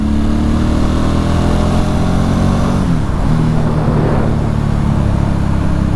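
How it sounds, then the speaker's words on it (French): Ducati Hypermotard 1100 Evo from 2010 accelerating hard in fifth gear from about 80 to overtake, a loud continuous engine roar whose pitch dips briefly and then climbs steadily with road and wind noise. "à 80, on accélère un petit peu pour doubler, ça part comme un missile."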